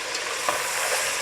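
Meat frying in a pan for Uzbek plov, a close bright sizzle with a brief stir or scrape midway, steady and unbroken over the short span, no voices.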